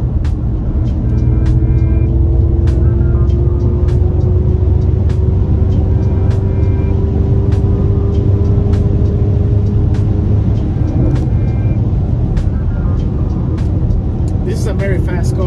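A 2024 Ford Mustang Mach-E GT electric car drives at speed, its synthetic engine sound a steady low hum over road rumble and rising, gliding tones, with regular ticking clicks and a person talking over it.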